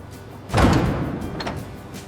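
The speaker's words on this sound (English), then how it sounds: "The doors close." Doors close at a traditional katsuobushi fish flake factory in Japan, heard as a single heavy, muffled slam at close range followed by faint rattling and settling.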